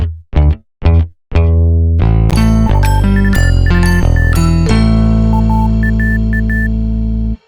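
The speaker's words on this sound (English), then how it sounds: "The bell-like instrument is just a preset from Native Instruments' hybrid keys that I really like." Bell-like electronic keyboard preset from Native Instruments Hybrid Keys, chiming in a few short plucked notes before a full electronic music passage enters, with bright tinkling bell melodies over deep sustained bass, loud and close.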